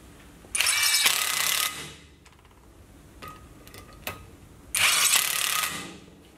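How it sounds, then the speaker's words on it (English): A 20V INGCO impact driver drives screws into concrete in two loud, rattling hammering bursts, each about a second long, separated by quieter clicks and handling noises. "we're also going to drive some screws into concrete here"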